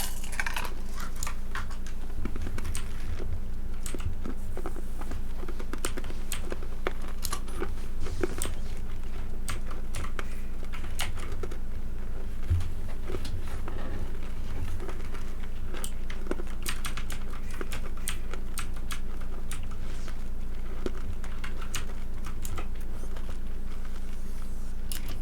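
Computer keyboard keys are pressed during play of the Blade Assault video game, a near, fairly quiet stream of irregular clicks and taps in quick bursts over a low steady hum, with no voices.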